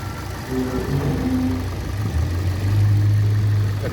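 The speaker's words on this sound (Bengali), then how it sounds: "ইঞ্জিনের সাউন্ড" A 2014 Hyundai Elantra engine idles with a steady low hum and mild mechanical whir that holds even throughout, close by and without any voices.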